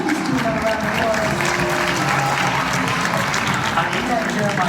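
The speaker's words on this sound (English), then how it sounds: "Give these two another round of applause." Audience applause fills a basketball ceremony with an illusionist performing, steady clapping from a crowd sustained at an even level throughout.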